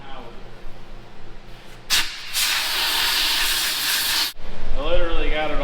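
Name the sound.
brake cleaner spraying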